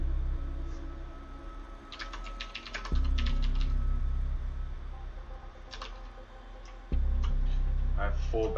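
Computer keyboard typing in bursts of quick clicks during a live stream, sitting under a steady fan-like hum with a couple of thumps, fairly close and moderate in level.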